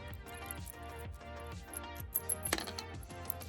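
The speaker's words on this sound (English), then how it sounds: "That high frequency, high tinny kind of clinky noise, that's an aluminum noise." Aluminum pieces mixed in with scrap copper wire clink together, giving scattered light, tinny metallic chinks over a steady low rumble, with a sharper cluster of clinks near the end.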